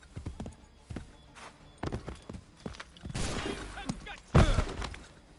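Hooves of a galloping horse in Assassin's Creed III, irregular thudding beats close by, mixed with bursts of noise and a sharp crash near the end, with some voice under the action.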